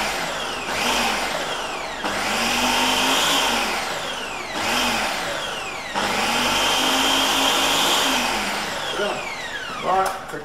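A food processor blitzes cauliflower with a loud whirring motor that surges and winds down in repeated pulses, and a voice speaks briefly near the end.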